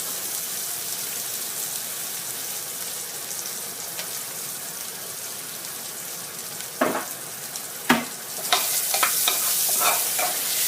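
Shiitake mushrooms stir-fried with coriander and garlic in a pan, a steady close sizzle with scraping stirs that build into louder frying toward the end, no talk.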